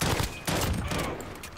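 FAMAS rifle fire in a first-person shooter video game crackles in rapid dense bursts with a short gap between them, loud and continuous.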